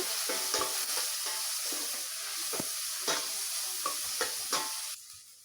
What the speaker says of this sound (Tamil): நல்லா வந்து பிங்கிஷாக வதக்கிக்கோங்க